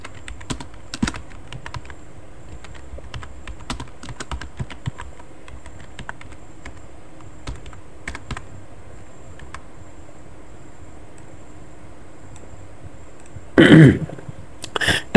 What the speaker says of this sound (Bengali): আমি লোকেশন টাইপ করছি।